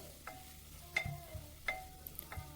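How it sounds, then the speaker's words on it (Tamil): Chopped coriander and mint being stirred in a pan while sautéing for prawn biryani, with intermittent scraping strokes every half second or so and a faint sizzle underneath, quiet and close. "அதையும் சேர்த்து நல்லா ஒரு வதக்கி விட்டுக்கிடணுங்க"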